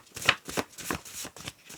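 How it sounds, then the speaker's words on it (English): A deck of affirmation cards being shuffled by hand, the stiff cards riffling in about six short, soft bursts at a steady rhythm, close by with no talking. "They're hard to shuffle."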